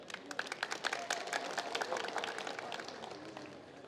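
Audience at a talk clapping together, a dense burst of many hands that starts sharply, swells, and tapers off over a few seconds.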